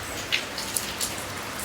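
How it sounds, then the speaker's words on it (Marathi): Heavy monsoon rain falls in a steady, even hiss, with a few sharper drip and drop hits standing out close by. "मित्रांनो खरंच ना बघा ना किती पाऊस सुरू आहे"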